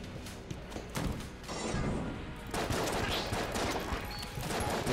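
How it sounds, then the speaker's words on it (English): Dense gunfire, blasts and explosions from Enter the Gungeon, a table-flipping bullet-hell game with rockets, crackle and thump almost without a break for five seconds, loud and busy with a brief lull near the start. "I want to flip a table and fire some motherfucking rockets."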